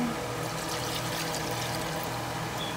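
Thin reconstituted coconut milk, made from coconut cream, poured steadily into a dish. The liquid gives a continuous close splashing gush with no pause and no talking.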